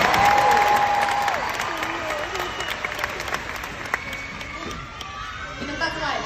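Audience applause and cheering fill a Baby Monster fan meeting hall, steady and dense crowd clapping with scattered shouts and chatter throughout, loudest at the start and easing slightly.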